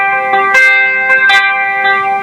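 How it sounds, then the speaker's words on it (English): Electric guitar lead line with a pronounced dotted-eighth delay: a sustained, bright note rings steadily while soft picked accents and echoing repeats shimmer over it, close and fairly loud. "Really want to be able to hear that delay."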